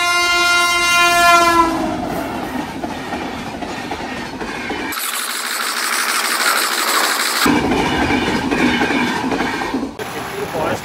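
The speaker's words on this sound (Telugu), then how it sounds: "లోకల్ ట్రైన్ అనుకుంటా" A local train on the line near the road to Chittoor blows a long, loud horn, then rolls past close by with rumbling wagons and wheel clatter.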